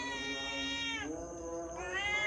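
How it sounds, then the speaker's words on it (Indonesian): A cat meows repeatedly in a village street, two drawn-out, wavering cries close by with a brief dip between them and faint background noise. "ada kucing juga di sini teman-teman"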